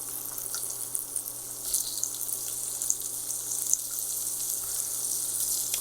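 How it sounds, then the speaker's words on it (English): A soft, steady sizzle with faint crackling as sausage fries in a pot, continuous and fairly quiet throughout. "It's gonna start sizzling."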